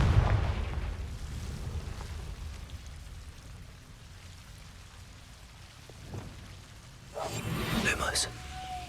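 A Confringo fire-spell blast in the Hogwarts Legacy video game bursts loudly near the end over a steady, rain-like ambient hiss, with a softer crackle earlier in the scene.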